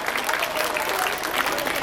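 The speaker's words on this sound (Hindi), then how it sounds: "आप सभी लोग ताली बजाकर उनका स्वागत करें।" An audience at an Indian public school program claps in a dense, even burst of applause from many hands. It holds steady for the whole short stretch.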